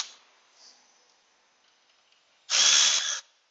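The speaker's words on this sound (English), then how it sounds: "See if we can grab our Milwaukee 1/4-inch and a 15mm socket." A Milwaukee 1/4-inch power tool with a 15mm socket spins a bolt on a 2005 Dodge Caravan, one loud close whirring burst lasting under a second after a quiet stretch.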